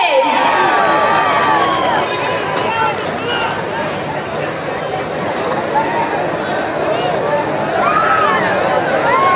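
Loud, sustained applause from an audience at a cultural programme, a dense clapping wash that fills the whole stretch, with crowd voices and whistle-like cries rising through it.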